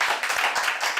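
A studio audience at a televised Galician music show claps in a dense burst of applause, close and continuous with sharp individual hand claps.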